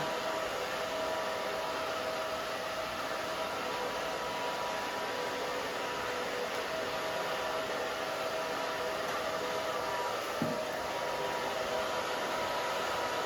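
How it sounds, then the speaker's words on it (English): A hair dryer blows steadily while drying a short pixie cut, a continuous airy rushing hiss at moderate level with a faint tonal whine and one small bump, and no voices. "See, that was fast to blow dry, really fast."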